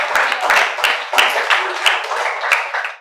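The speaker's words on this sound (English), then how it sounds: "Come on, big claps." Children applaud during a school quiz, a loud burst of rapid, uneven clapping that holds steady for about three seconds before tailing off.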